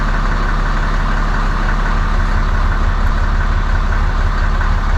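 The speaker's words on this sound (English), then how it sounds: "Do you hear like a slight, like, Lope idle sound with the exhaust?" A Ram 2500 pickup idles with a deleted, modified exhaust, producing a steady, loud, low rumbling drone with a slight uneven lope, heard close up and unbroken for the whole stretch with no talking.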